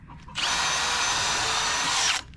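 A hammer drill runs close and loud in one steady, unbroken whine for about two seconds, then cuts off abruptly, with no talking over it.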